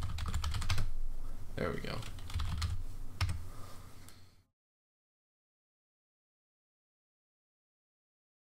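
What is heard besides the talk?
typing on a computer keyboard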